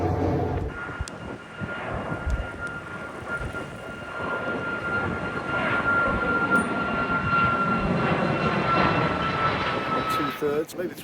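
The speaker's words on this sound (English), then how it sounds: "there's another plane taking off" A fixed-wing airplane takes off from the airport near Can Pastilla on the coast toward Palma. Its engine roar builds into a loud, steady, distant rumble that lasts throughout, mixed with outdoor wind noise.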